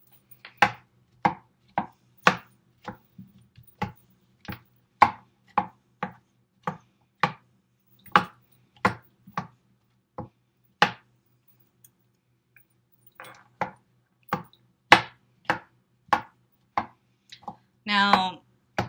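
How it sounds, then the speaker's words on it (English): Knife chopping pre-cut rinsed mushrooms on a cutting board, a steady run of crisp, close taps in short bursts with brief pauses, ending in a quick flurry of rapid cuts. "They were already pre-cut, but I'm going to cut them"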